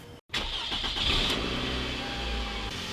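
A car engine, its battery helped by jumper cables, cranks briefly after a short pause and catches, then settles into a steady, fairly loud idle with a low rumble.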